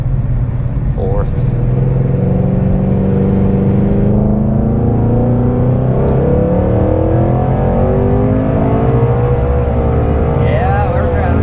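A Mustang Mach 1000 build drives and accelerates, its engine note climbing steadily in pitch through the gears, loud and close from inside the car, with excited voices talking over the roar throughout.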